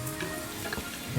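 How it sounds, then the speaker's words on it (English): Pandan leaves and curry leaves lightly frying in oil, a soft, brief sizzle heard close and alone. "Very light fry."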